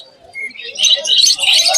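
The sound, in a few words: birds chirping at the Naihati bird market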